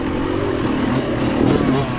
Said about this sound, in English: I hear the revs.